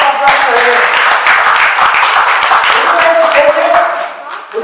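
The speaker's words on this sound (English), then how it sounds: "Big round of applause for it." An audience bursts into applause, a dense wash of clapping hands that swells and holds for a few seconds before tapering off, with voices mixed in.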